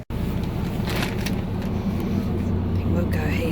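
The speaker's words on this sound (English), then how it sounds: "I think that's our bus there." A bus pulls in at a stop, its engine a steady, fairly loud rumble with traffic noise around it, sustained throughout with little change.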